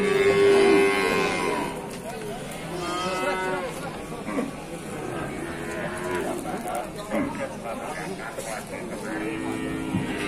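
Limousin cattle moo at a busy cattle market, several drawn-out calls rising over crowd chatter and livestock noise, with people talking nearby throughout.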